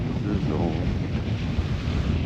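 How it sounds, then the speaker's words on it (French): Strong wind at sea buffeting the microphone on a sailboat, a loud continuous roaring rush with gusty fluctuations, a voice faintly audible underneath. "Et encore un nouveau jour de vent, de vent."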